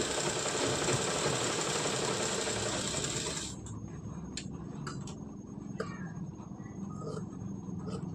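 A sewing machine runs steadily, stitching blouse fabric in a continuous whir for about three and a half seconds, then stops, leaving a few faint clicks and handling noises.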